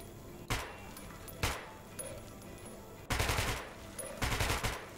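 Full-auto rifle fire in the Metro 2033 Redux video game: two short separate bursts, then two longer rattling bursts, loud and close over a quiet hum.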